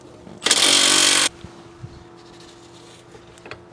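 An impact wrench fires one loud, harsh burst of about a second on a fastener held in a rubber suspension mounting on a Saab 900, then stops, leaving quiet shop noise and small clunks.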